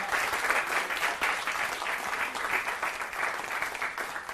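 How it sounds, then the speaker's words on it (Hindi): Sustained crowd applause welcomes poet Muskan Sharma at a New Year poetry gathering, an even, close roar of many clapping hands that holds steady for several seconds without speech. "तालियों के साथ स्वागत मुस्कान शर्मा जी का।"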